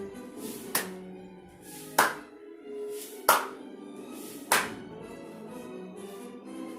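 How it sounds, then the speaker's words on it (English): Four sharp, evenly spaced hand claps during a seated chair cardio workout, each one crisp and close, with quieter movement sounds between them. "If you want to throw in that clap, please do."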